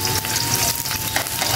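Onion frying in a pan, a steady close sizzle with faint stirring, no voices.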